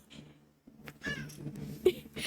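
A pet cat named Ella meows several times in short, chirpy calls close by indoors, with a louder, drawn-out meow near the end and no talking.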